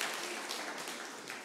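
Church congregation applauding during a pastor's sermon, a soft, steady patter of many hands clapping that slowly fades, heard from a distance without voices.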